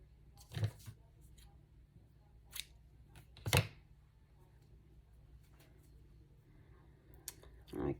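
Scissors snip through dry-embossed paper scrap tags to trim them shorter, giving a few separate sharp cuts spaced apart in a quiet room.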